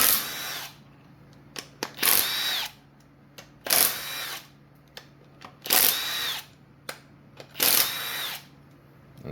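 A power drill or impact driver removing the five 10mm bolts of the fuel injector rail on a 2013 Ford Edge 2.0 turbo engine, four loud close whirring bursts about two seconds apart with short clicks between.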